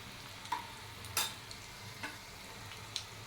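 A tempering of garlic, dried red chillies and chilli powder cooks in hot oil with a soft, continuous sizzle, broken by a few sharp stirring clicks from a spoon against the pan.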